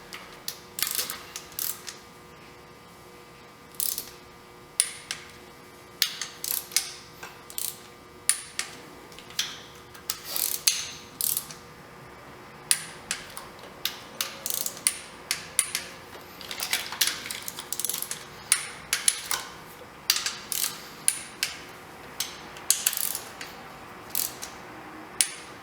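Torque wrench tightening intake manifold bolts on a Ford SVT Contour, a steady run of sharp ratcheting clicks in short bursts, close and fairly quiet, with no talking.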